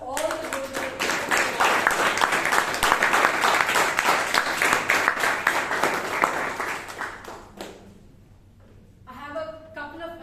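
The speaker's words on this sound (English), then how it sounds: "A big round of applause to all the good." A Toastmasters meeting audience gives a round of applause, dense steady clapping for most of the stretch that fades out, after which a voice starts speaking.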